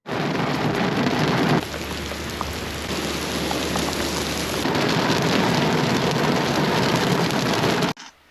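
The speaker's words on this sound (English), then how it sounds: "Wow, not seen rain like this since" Heavy rain pours down in a loud, steady summer thunderstorm on an evening before a road relay race, with a constant dense hiss of drops and deep rumbling underneath throughout, no voices present.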